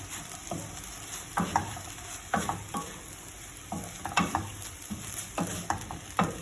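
Bitter gourd stir-fried with mushroom and egg in a pan, with spatula scrapes and stirs coming in irregular bursts over a steady sizzle, close and fairly quiet.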